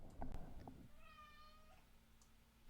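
A wet house cat meows indoors: a few short soft calls early, then one longer, clear, drawn-out meow in the middle, heard alone at a modest level.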